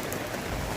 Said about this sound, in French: Le marché de Videoban sous la pluie.